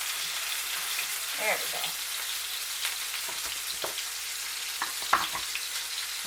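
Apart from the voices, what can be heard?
sirloin steak sizzling in a pan after flipping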